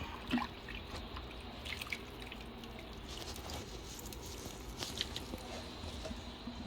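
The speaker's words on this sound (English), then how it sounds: "we're gonna pour this on top" Orange ginger sauce pours over chicken with a soft, continuous wet trickle and patter, faint and close, lasting several seconds.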